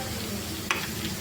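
Chicken pieces fry over low gas for chicken pickle, a continuous soft sizzle with one brief sharp pop or clack midway, heard close and alone.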